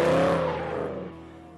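A Ford Mustang drift car's engine revs high and loud, then the pitch and volume drop off as the revving winds down.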